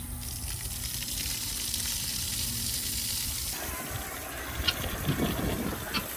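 Water running from a half-open farm tap into a livestock trough, a steady hissing rush that shifts midway into a splashier pour with small sloshes, loud and close, no talk.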